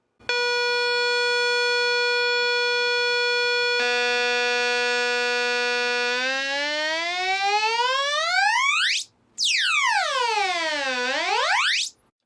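Two steady synthesized electronic tones from a 555 timer synth hum together, then the pitch sweeps down and up in siren-like glides, loud and continuous with a brief gap.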